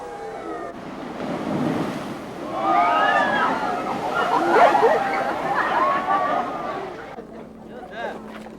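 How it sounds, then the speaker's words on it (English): Pacific ocean waves surge into an underground cavern at a Baja blowhole, a broad rushing, sloshing roar that swells and recedes over several seconds, with a voice speaking over it. "Incoming waves rush into an underground cavern and shoot a flume as high as 90 feet."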